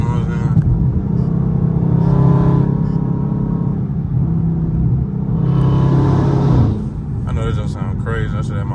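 From inside a Dodge Charger Scat Pack with the windows up on a highway, the engine drones and rumbles, then swells as it downshifts and accelerates. Someone talks over much of it.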